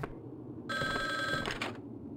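Telephone ringing in the survivor-horror video game Resident Evil Survivor: a sustained electronic ring with a steady tone, starting suddenly after quiet background and trailing off near the end, alone without talk.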